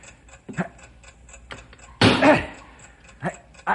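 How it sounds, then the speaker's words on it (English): A bomb timer ticks on in a radio drama scene, with a heavy hammer blow striking a wedge midway and a few short vocal grunts or breaths around the steady ticking. "You've got to drive that wedge in there and stop that ticking."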